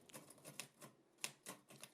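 A typewriter clacks with quick, irregular strikes, each a sharp, bright click, a few keystrokes spaced across two seconds. It is faint and alone, with no talking.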